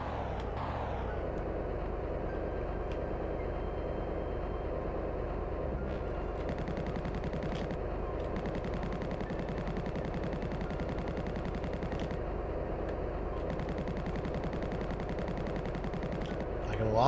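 Rapid, continuous gunfire from shooting in the N64 game Body Harvest rattles on steadily over a droning engine-like hum, with a few brief pauses and sharper accents.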